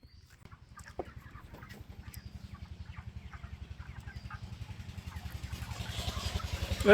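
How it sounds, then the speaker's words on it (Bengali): Chickens cluck on a poultry farm over a steady, rhythmic low throbbing that grows louder toward the end. "এটা তো ফারুকের মুরগির ফার্ম"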